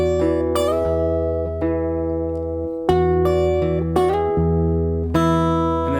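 Acoustic guitar finger-picked hard in the style of a folk-rock song, a close, bright pattern of plucked notes with ringing bass strings and repeated sharp attacks.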